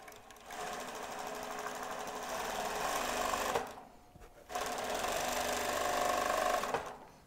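Kansai Special chainstitch sewing machine running in two long, loud, fast-buzzing bursts, separated by a brief pause.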